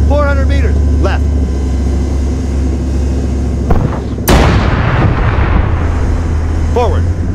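Heavy tank cannon fire in a combat zone, one loud blast with a sharp broadband crack and a rumbling tail over a constant engine drone, with voices calling out commands before and after.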